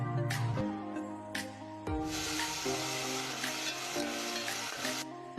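Beef for karahi frying in hot oil makes a loud, sustained sizzle that starts after a couple of seconds and runs steadily beneath background music.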